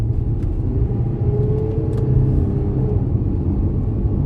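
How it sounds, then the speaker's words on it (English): An Audi Q7 3.0 TDI towing a caravan and accelerating on an A road produces a loud, steady low drone heard from inside the cabin that holds almost unchanged throughout, with no voices. "I'm going 20 miles an hour, and I'm going to accelerate up to 50, which is the speed limit on this A road."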